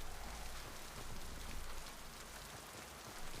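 Rain pouring on a toxic alien planet in the video game Mass Effect 2, a dense, even hiss of rainfall that fills the whole short stretch with no other sounds.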